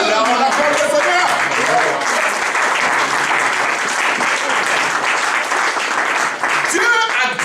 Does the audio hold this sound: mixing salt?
no